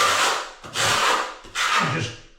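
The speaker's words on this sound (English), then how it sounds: "Then get the straight edge of your trowel" The straight edge of a trowel spreads a thin coat of tile adhesive across a bathroom floor. Three close, rasping scrapes follow one another with short pauses between, and no one speaks.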